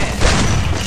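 Gunfire in an online shooter game on a Thai server, a dense booming burst of shots with thuddy low end filling the whole moment, loud and close.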